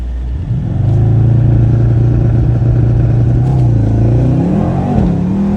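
A 2018 Mercedes-AMG E63 in sport mode accelerates hard from inside the cabin, its engine roaring loud and close as it climbs steadily in pitch, then dips briefly at a gear change.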